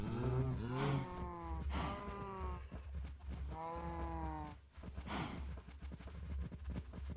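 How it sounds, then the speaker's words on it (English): Cows moo in the Minecraft video game, several drawn-out bellows overlapping one after another, close and fairly loud over a low rumbling background. "Look at all them cows."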